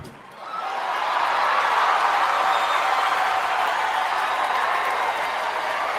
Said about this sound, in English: Look, they're clapping.